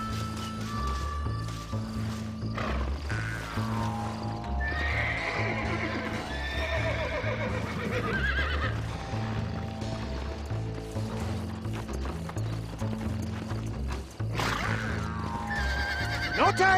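Horse whinnies and clip-clopping hooves from the video game Red Dead Redemption, loud and continuous over a low, rhythmic game music bed with steady activity throughout.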